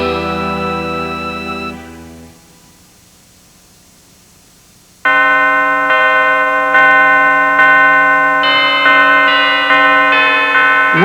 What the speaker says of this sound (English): Wedding bells chimed at St. Mary Magdalene de Pazzi Church in South Philadelphia in 1918.